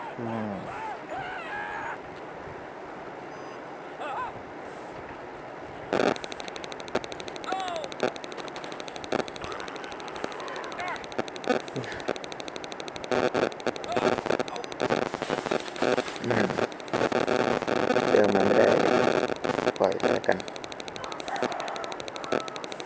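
Rapid bursts of automatic gunfire rattle in the video game Half-Life: Opposing Force, sporadic at first, then growing denser and louder toward the end.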